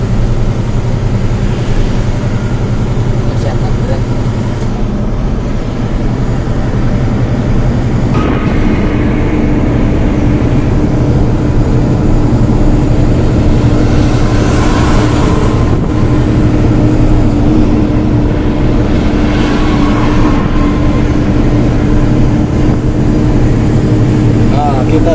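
Hino Ranger 500 Euro 4 truck engine droning steadily at close range while driving and overtaking, a constant low rumble throughout with people talking over it.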